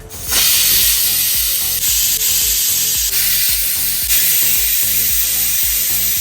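A pressure cooker cooking country chicken curry vents steam through its whistle, a loud sustained hiss with faint rhythmic rattling underneath, close by and without voices.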